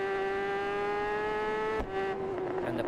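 A racing motorcycle engine in the video game Isle of Man TT 3 drones at a steady high pitch, then gives a brief exhaust pop at a gear change before revving on.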